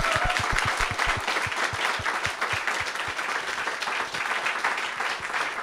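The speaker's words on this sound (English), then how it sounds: "So can we give a round of applause to our panelists and also to Red Emmas for hosting this event?" An audience at a Red Emma's panel event on educators' strikes claps for the panelists and hosts, a close, loud burst of applause with a few distinct individual claps standing out from the steady patter throughout.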